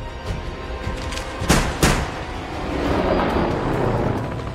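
Two sharp, loud gunshots go off close together during a shootout in Magnum P.I., followed by a rumbling, noisy aftermath with no voices.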